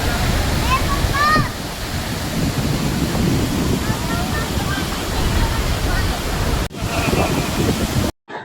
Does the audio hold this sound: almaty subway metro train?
no